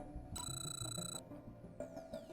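A telephone rings in the Crime O'Clock video game, a bright repeating electronic trill heard close and clear in short bursts over a low game background.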